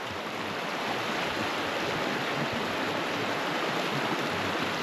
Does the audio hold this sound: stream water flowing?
yes